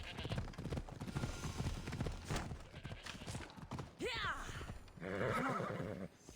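A horse in the video game Assassin's Creed Odyssey gallops with rhythmic hoofbeats on the ground, then gives loud whinnying neighs, with a person talking at the start.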